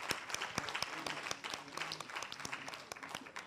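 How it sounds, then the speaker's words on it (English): Audience at a senior citizens' spelling bee gives a round of applause, a modest scattering of distinct, crisp hand claps at an even pace. "A round of applause for our spellers so far."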